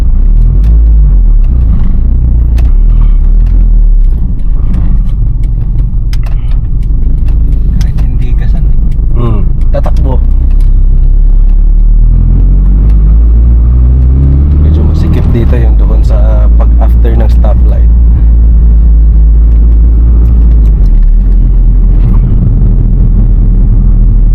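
Honda City Turbo engine with a 149 stock rating, rumbling loud and steady as the throttle is pressed, rising in a couple of surges, with people talking over it throughout.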